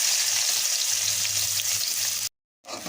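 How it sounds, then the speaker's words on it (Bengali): Chopped onions sizzling in hot mustard oil in a wok, a loud, steady frying hiss that cuts off abruptly near the end and then resumes briefly. "এখন পেঁয়াজ কুচি দিয়ে দেবো"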